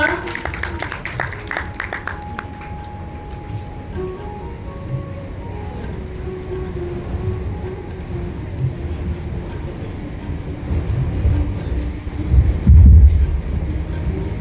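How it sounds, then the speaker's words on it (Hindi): Audience applause welcoming a speaker at the welcome address of a five-day ICMR workshop at a college in Ghaziabad: a steady, dense clapping wash that runs throughout and swells louder near the end. "तालियों से स्वागत करता"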